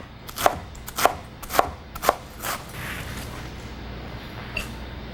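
A Rada cutlery knife slices through food on a cutting board, giving four sharp, evenly spaced chops close up, then a softer cut and a faint tap in quiet surroundings.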